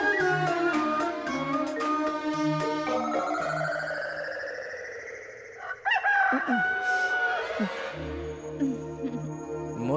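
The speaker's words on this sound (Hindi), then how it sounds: "मुर्गे ने बांग दे दी है।" A rooster crows loudly in a Hindi dubbed film scene: one long, rising cock-a-doodle-doo cry over background music, with a few scattered sound effects and no speech during the call.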